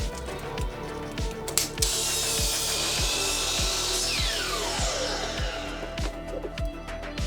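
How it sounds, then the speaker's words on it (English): A miter saw cuts 2x4 wood scraps into 10-inch blocks, heard as loud, close, rhythmic bursts of cutting and wood noise repeating at a quick, steady pace with a brief louder grinding stretch in the middle. "So to start, we're gonna take our 2x4 scraps over to the miter saw and cut them into 10-inch blocks."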